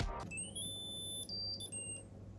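An Ortomi robot companion gives soft electronic chirps and beeps, a string of thin high steady tones changing pitch over a couple of seconds, quiet and close with no talk.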